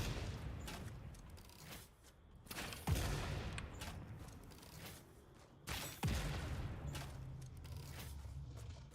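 Video game rifle fire, two loud sharp shots spaced a few seconds apart, each with a booming tail, over a rough continuous background of distant battle noise.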